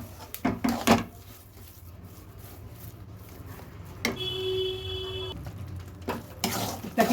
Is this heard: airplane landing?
no